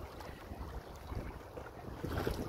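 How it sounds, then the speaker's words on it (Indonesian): Wind gusting at sea during kayak fishing, a steady broadband rush with buffeting on the microphone, moderately loud and continuous with no talking. "Hari pun makin berangin."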